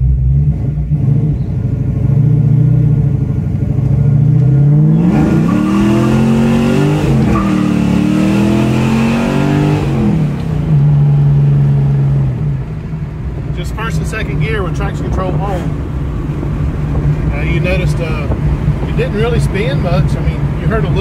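A Fox Body Mustang with a Pro M EFI system and traction control on accelerates hard, its loud engine revving and rising in pitch with a brief tire squeal, while voices talk over the steady roar.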